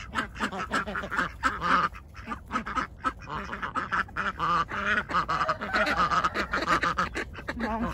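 Ducks bathing in warm water on a winter day quack busily and nearly nonstop, several birds overlapping close by in a dense, rhythmic chorus of short calls.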